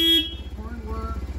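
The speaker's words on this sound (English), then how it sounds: "Horn" A 1999 BMW R1100RT motorcycle sounds its horn in one short, loud, bright blast, followed by the close, rhythmic idle of the engine.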